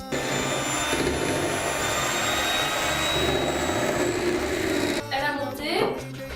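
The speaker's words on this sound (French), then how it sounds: "on a besoin d'un fouet et on va utiliser une vitesse pas trop rapide" An electric whisk runs steadily at moderate speed, whipping chocolate ganache for a caramel and chocolate tartlet, a loud continuous whirring over background music, then slowing and stopping.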